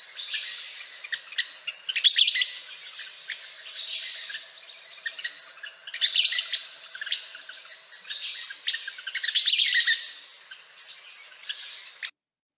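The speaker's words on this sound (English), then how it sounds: "Western kingbird, it's really not so much like phoebes and peewees because it's a" A Western kingbird giving rapid twittering calls, a series of bright chattering bursts repeated every couple of seconds, fairly close and clear against a quiet background.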